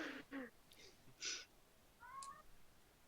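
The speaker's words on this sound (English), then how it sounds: "cat making noise" A house cat meows several times in short, quiet, close calls separated by brief pauses, with one rising, drawn-out meow near the end.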